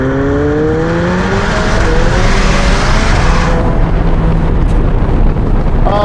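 A McLaren 720S fitted with a Novitec exhaust drives past loudly, its engine tone rising and shifting through gears under steady wind buffeting on the microphone, with a fresh rev climbing at the end.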